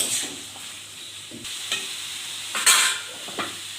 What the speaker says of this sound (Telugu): సాల్ట్ వేసుకొని ఒకసారి కలిపేసి